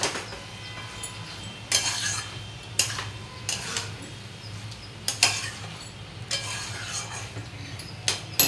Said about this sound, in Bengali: দিয়ে ভালো করে নাড়িয়ে চাড়িয়ে নেব